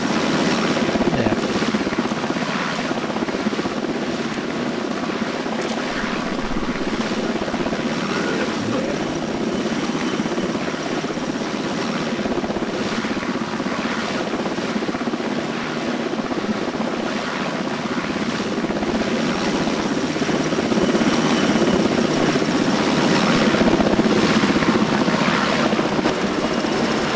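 Helicopter in the military video game ArmA 2, its rotor and engine drone filling the whole stretch as a loud, steady, unbroken roar.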